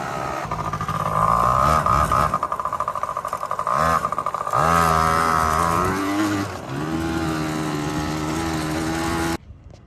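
A Yamaha BW80 motorcycle engine revs up close, its pitch climbing and dropping as it shifts through the gears, with a buzzing two-stroke note that cuts off abruptly at the end.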